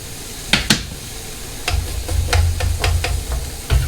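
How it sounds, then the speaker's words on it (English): An apple sizzles as it goes into a skillet greased with butter over medium heat, with a couple of sharp clinks of the pan before a steady low crackle and bursts of frying spatter build up close by. "I'll get it greased here with a little bit of butter. It's on a medium heat. And in goes my apple."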